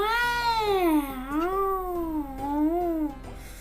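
A drawn-out, wavering cat meow from the video game Stumble Guys, a single loud, close, bending wail that rises and falls over several seconds, with faint tapping beneath.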